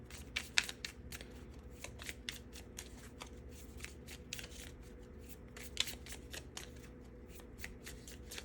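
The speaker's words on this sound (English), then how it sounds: "Try to get one more card for you." A tarot deck being shuffled and a card drawn: soft, steady riffling and sliding of cards with a few sharper snaps, close and quiet, with no voices.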